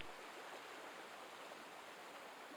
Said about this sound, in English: I can hear water nearby